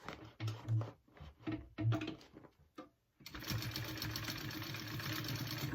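A sewing machine stitches a tote bag in short bursts at first, stopping and starting with brief gaps, then runs in one continuous, steady whir for several seconds.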